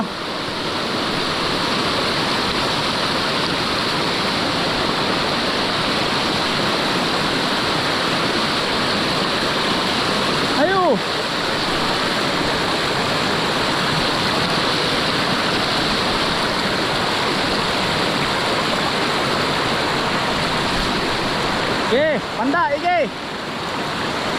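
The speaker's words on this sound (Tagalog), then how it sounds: "Nataas ang tubig, naanod na pati tulay." Floodwater rushes down a swollen river in a steady, loud broadband roar that fills the whole stretch, with a couple of brief shouted voices breaking through near the middle and end.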